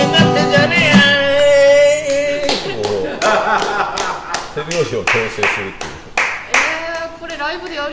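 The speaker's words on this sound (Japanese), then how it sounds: "手拍子を強制するっていう。" Rhythmic clapping in time runs through a live music discussion, sharp regular claps under singing and talking voices, with the beat persisting across the whole stretch.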